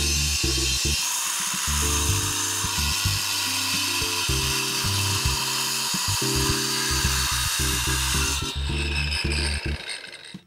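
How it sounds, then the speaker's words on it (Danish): An angle grinder or wet saw cuts paving blocks, giving a continuous harsh, loud grinding whine with rough pulsing variations that drops away near the end. "Blokkene skæres med vinkelsliber eller vådskærer."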